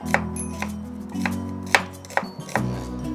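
A kitchen knife chops through an onion on a cutting board, making several sharp, separate thunks at an uneven pace, close and clear, with no talk.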